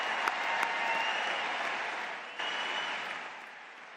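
A large commencement audience applauds honors graduates with steady, dense clapping that swells and then gradually fades, with no talk over it.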